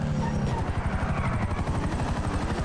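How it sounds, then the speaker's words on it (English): Helicopter in GTA 5 with a rapid, rhythmic rotor chop that stays loud and close throughout, a steady low pulsing drone with no speech over it. "Lose the enemy chopper."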